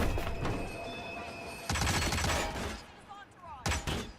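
Gunfire during shooting training in the video game Hitman, Episode 5 Colorado: bursts of shots near the start, a dense volley from about 1.7 to 2.5 seconds and another at the end, with quieter gaps between.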